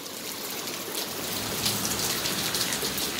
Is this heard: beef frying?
no